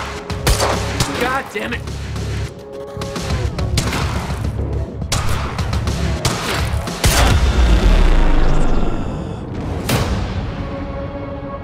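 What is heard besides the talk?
gunfire in video game Quantum Break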